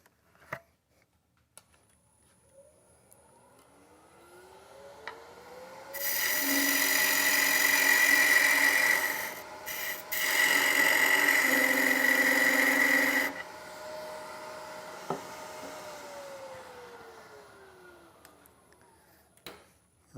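A wood lathe turning a hollow vessel hums as it spins up, then a tool cuts the nub at the top with a loud, steady scraping roar. The cut runs about seven seconds with a brief pause before the motor winds down.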